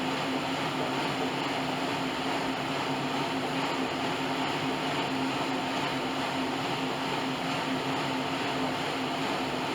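A Bowflex Max Trainer exercise machine spinning on manual gives a constant loud, even whooshing hum with a faint tonal drone and no pauses throughout.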